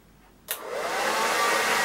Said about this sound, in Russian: просто берете тот же самый обыкновенный фен, желательно по большей мощности, и по ходу пера начинаете сушить